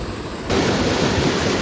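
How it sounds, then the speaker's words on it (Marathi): Water is drawn from a clear village source in rural Konkan to fill bottles. It makes a steady, close rushing hiss that grows louder after the first half-second and keeps up without a break. "तर आता पाणी भरून घेतोय थांबा."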